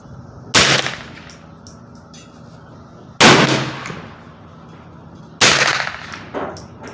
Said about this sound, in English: I'm gonna shoot the lower target.